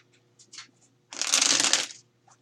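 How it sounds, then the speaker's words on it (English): Tarot cards are shuffled in one brisk riffle lasting about a second, close and crisp, after a few light card handling taps. "So the cards have been shuffled."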